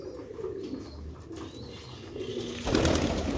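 Old Sialkoti pigeons cooing softly and steadily at close range, with a brief flutter or louder burst of activity near the end.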